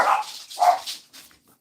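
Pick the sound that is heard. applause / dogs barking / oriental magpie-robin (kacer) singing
dogs barking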